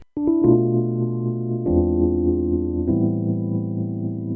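Sustained piano chords of a 7-3-6 progression played one after another, three distinct chords each ringing for over a second, clear and close with no talking.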